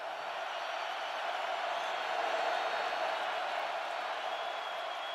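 College football stadium crowd at Indiana versus Iowa, a loud, steady wash of cheering and roaring from a packed stand that holds at an even level throughout without any break.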